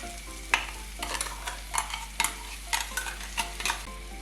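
A spoon stirs soaked, ground cashew paste into a Kerala-style chicken curry in a pan, about ten distinct scraping strokes in an irregular rhythm over a soft background sizzle.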